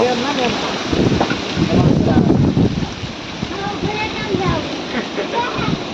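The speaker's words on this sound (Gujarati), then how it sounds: "જુઓ તમે કેટલો પવન છે" Strong cyclone wind in Bhavnagar roars and buffets the microphone in loud gusts while a person talks over the noise.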